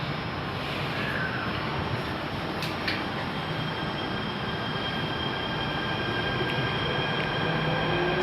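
Jakarta MRT train departing Dukuh Atas BNI station, heard from inside the car as a steady, loud rumble of wheels and motors with faint squeals, continuous throughout.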